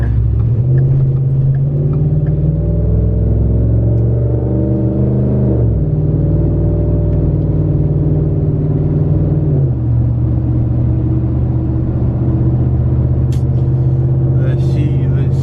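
A Ford F-150 pickup, lifted on 26x14 wheels, drives onto a highway with a steady loud engine drone and road rumble that dips briefly in pitch as the gears shift, while people talk over it throughout.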